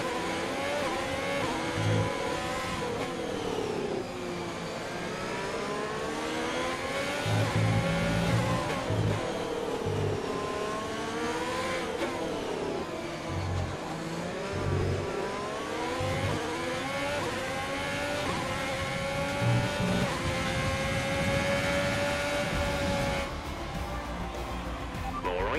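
Alfa Romeo Formula 1 car in the F1 2020 racing game, its engine droning steadily with rising and falling revs and pitch sweeps throughout, loud and continuous, with a team radio voice talking over it.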